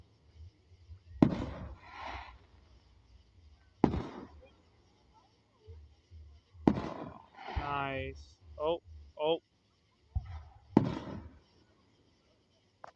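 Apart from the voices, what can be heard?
Fourth of July fireworks exploding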